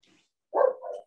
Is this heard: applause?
no